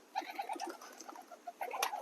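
Pigeons, including American Fantails, coo and call in short, repeated bursts, fairly close, with a brief flurry of them flying off near the end and no talking.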